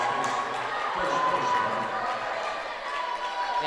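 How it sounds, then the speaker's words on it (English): Home crowd at a high school basketball game in a gym, York versus Bellevue, building into a steady roar of cheering and shouting, with a commentator's voice running over it. "their crowd is starting to get into it"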